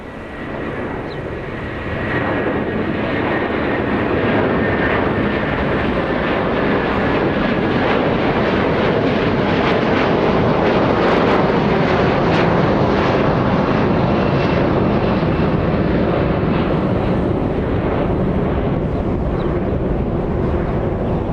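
A Hawaiian Airlines Airbus A330-300 heavy jet departs Los Angeles International Airport bound for Honolulu, its engines giving a loud, steady roar that swells slightly and holds for about twenty seconds, with some wind rumble and no talking.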